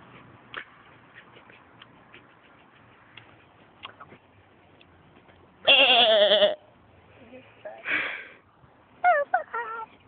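Person imitating a sheep's bleat with a loud, wavering baa about a second long, followed by a couple of shorter bleat-like calls, over quiet outdoor background with scattered ticks and clicks.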